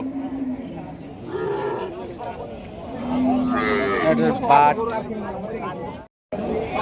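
Cattle low and moo at a busy heifer and dairy cow market at Choubaria haat, heard amid constant overlapping bargaining voices from buyers and sellers nearby.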